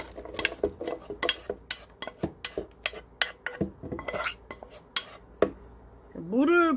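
Boiled soybeans are poured into a blender for soybean noodle soup. They land in a quick run of sharp clatters and clinks, followed by a short scraping squeak at the end.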